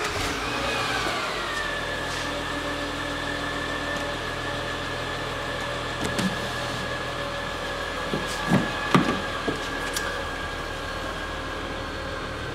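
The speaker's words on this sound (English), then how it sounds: "oh, I gotta turn the vehicle all the way on" A car's engine starts up and then idles steadily and close by, with a few brief knocks and thumps partway through and no talking.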